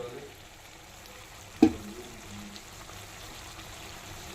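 Chikkudukaya (broad bean) curry simmers in a pan with a low, steady bubbling and faint sizzle, broken by one sharp clink of a utensil partway through.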